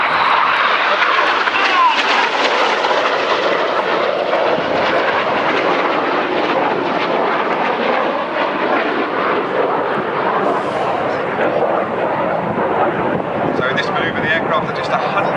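Red Arrows jets roar past at an airshow in Koksijde, Belgium, loud and broadband, with the sound swelling and sustaining close overhead while a commentator talks over it.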